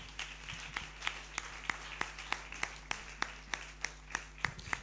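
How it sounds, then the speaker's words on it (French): A church congregation claps during a bilingual French and English sermon, with sharp claps landing in a steady, regular rhythm, fairly close and moderately loud over a low hum. "Clap for Jesus."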